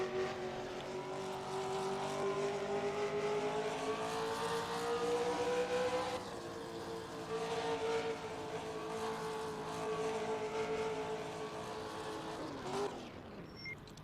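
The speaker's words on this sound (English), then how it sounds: "that is a sweet sounding engine" An AMC-powered Eagle 74 race car engine drones steadily at high revs through a 1978 USAC oval race, pitch shifting slightly as it holds speed, fairly distant and continuous without talk.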